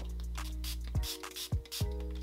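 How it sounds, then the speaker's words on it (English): Several quick hissing spray bursts from a pump bottle of leave-in hair detangler, close and fairly loud, coming roughly every half second over a low background hum. "I am obsessed with the way this thing sprays out"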